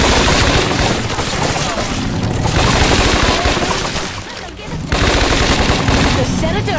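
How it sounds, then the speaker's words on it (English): Sustained automatic gunfire from a Scarface: The World Is Yours shootout rattles loud and close in dense bursts, with a brief dip before the shooting resumes. "Why don't you stop shooting"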